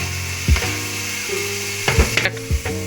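Tomato and curry leaves drop into a hot oiled pan, setting off a steady sizzle with a few louder bursts and scrapes as the mixture is stirred, close by with no talking.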